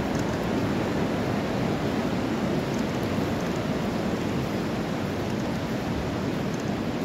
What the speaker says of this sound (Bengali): এখন দেখতে পাচ্ছি সম্পূর্ণটাই খুব জোরে একটা জলের ঢেউ আসছে।